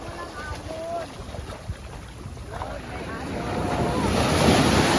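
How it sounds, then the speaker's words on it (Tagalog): Sea waves at Olongapo City wash and roll in steadily under gusty wind noise, swelling louder toward the end, with brief voices in the background. "May dagat na!"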